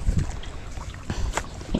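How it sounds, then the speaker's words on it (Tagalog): Strong wind buffeting the microphone outdoors on a farm, a rough low rumble with gusty bursts throughout. "Malakas hangin"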